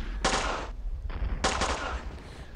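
Gunfire during shelling in the WarTroops 1944 video game: rapid bursts of loud automatic shots in two or three clusters separated by short pauses.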